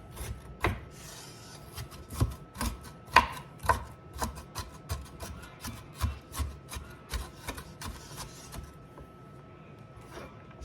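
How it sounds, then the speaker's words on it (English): Steady knife chopping on a cutting board, rough-chopping asparagus, irregular thuds repeating at a brisk pace, close and clear with no talking. "And I'm just gonna kind of rough chop this."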